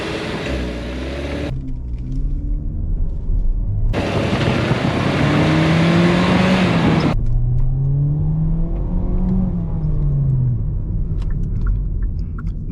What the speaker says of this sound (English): Putting this thing in drive, we're gonna do a light little acceleration.